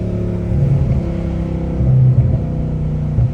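A straight-piped Dodge Hellcat Redeye engine rumbles at close range with a deep, raspy idle, blipped into a couple of short loud revs that fall back to the burbling drone.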